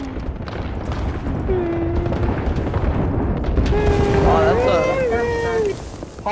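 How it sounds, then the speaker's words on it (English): Airstrike in Apex Legends, a continuous heavy rumble of explosions and booms rolling on for several seconds while players talk over it. "Airstrike."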